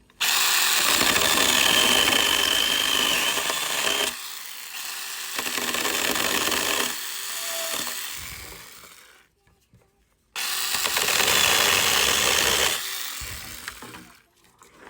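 A power saw cutting through a knot in wood in three long loud bursts, separated by brief quiet gaps, with no talking.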